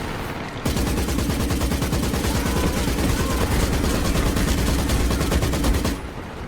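Rapid, continuous gunfire from tanks and rifles in a Girls und Panzer anime battle, a dense, loud burst of overlapping shots lasting about five seconds, then cutting off abruptly.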